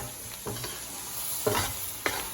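Flour being swished and stirred in a pot while making potato soup, giving a few soft scraping sweeps over a faint steady sizzle, close and fairly quiet with no talking.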